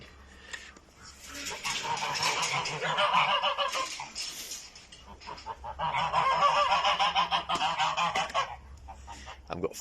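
Geese in the goose area of a garden orchard honk continuously in a dense, raucous chorus, loud and close, swelling in two long waves with a brief lull between.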